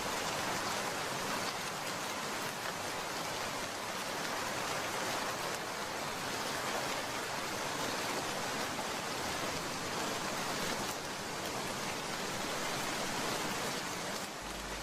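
Steady, dense rain pours throughout a cartoon storm scene, a constant loud hiss of falling water with no letup and no voices.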